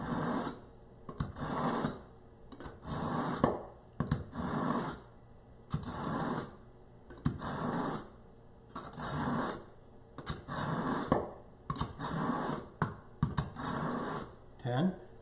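A knife drawn through a Rhineland Angle Pro Sharpener in a steady series of rasping strokes, about a dozen evenly spaced passes, close and moderately loud.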